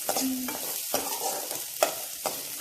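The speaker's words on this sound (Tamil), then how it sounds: "அந்த அரிஞ்சு வச்ச வெங்காயத்தை இதெல்லாம் போட்டுடணும். போட்டாச்சு. போட்டு வதக்கணும்." Chopped onions and green chilies sauté in a hot pan with a continuous close sizzle, broken by several sharp scrapes and clacks of a stirring spoon.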